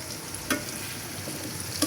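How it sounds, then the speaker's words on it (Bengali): Tangra fish frying in a pan with spices and ginger paste, giving a soft, steady sizzle close by with a couple of sharper scraping stirs, no voices. "মশলা দিয়ে দিলাম। ট্যাংরা মাছগুলো ভুনা করব।"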